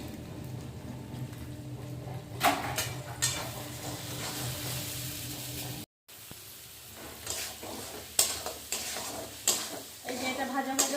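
Three eggs frying in a pan give off a steady sizzle, broken by scraping stir strokes and a brief cut near the middle, with louder spatula taps toward the end.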